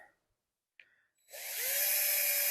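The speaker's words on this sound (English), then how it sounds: "drill a little pilot hole in the top" A small power drill spins up after a brief click and runs steadily with a high whine, close by, drilling a small pilot hole in the top of a beekeeping smoker plug.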